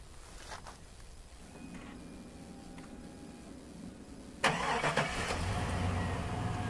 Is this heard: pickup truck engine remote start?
yes